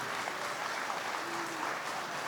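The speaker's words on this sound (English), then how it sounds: "A round of applause for them." Audience applause at an investment dinner, a steady, even wash of clapping from a seated crowd lasting the whole moment, moderately loud and without breaks.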